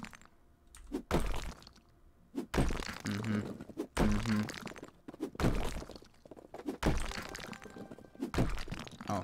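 Walls are smashed apart in House Flipper, a series of heavy thunks and cracking crashes arriving in irregular bursts about a second apart, each followed by crumbling debris, loud and close with no talking.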